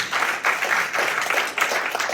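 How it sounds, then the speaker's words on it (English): An audience at an event in Singapore gives a round of applause, with dense, sustained clapping that swells and dips in waves throughout. "all of us can give him one more big round of applause"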